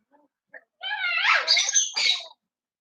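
Young puppies let out a few high, squeaky yelps close by. A couple of tiny yips come first, then a longer run of whiny barks.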